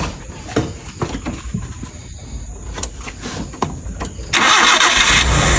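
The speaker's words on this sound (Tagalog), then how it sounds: "Subukan mo i-start ulit kung magingay pa yung chain" A Nissan Sunny boxtype engine cranks and catches, its starter whirring briefly before the motor fires into a loud, steady roar at close range, with no talk over it.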